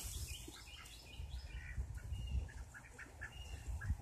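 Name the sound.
ducks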